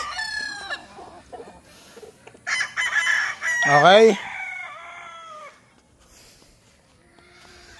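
Roosters crow loudly and nearby, several overlapping calls with clucking around them, and a brief spoken word early on.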